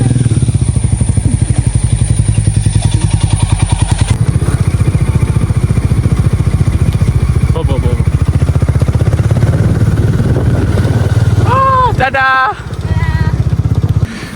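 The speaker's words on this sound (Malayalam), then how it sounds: "ഈ സ്കൂട്ടർ തേരിയൊന്നും വലിക്കുന്നില്ല" A scooter engine drones steadily and strains uphill with a rough, labored hum, running close and loud throughout, with a brief voice near the end.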